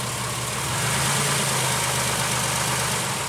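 A car engine idles at steady RPM during a check of a suspected MAF sensor fault, giving a loud, constant hum with low rumble and no talk.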